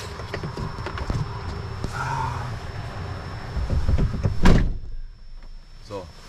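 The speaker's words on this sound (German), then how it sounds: "So, Tür zu." A truck cab door is shut with one sharp, solid thud partway through, and the cab goes quieter afterward. Before it, a driver talks over a steady background of rustling and cab noise.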